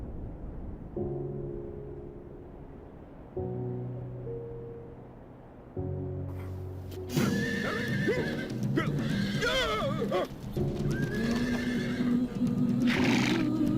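A horse charges forward and stumbles in sand, heard as clip-clopping hooves with repeated whinnies and neighs, starting sparse and moderately loud, then growing busier and louder toward the end.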